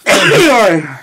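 A single sharp sneeze bursts out close and loud, about one second long, during a Hungarian podcast recording.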